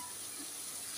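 Garlic paste fries in a pan with a steady, even hiss that lasts throughout, close and fairly loud, with no voices over it.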